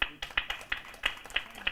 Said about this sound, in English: Okay, all those hand claps are for Cavendish.